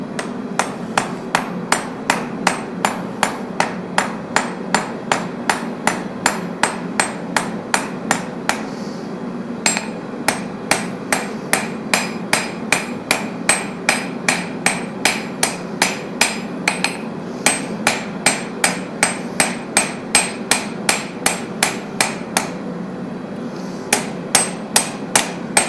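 Metal is hammered at a forge, a long run of sharp, ringing strikes at a steady, fast rhythm, loud and close, broken by a few short pauses between bursts.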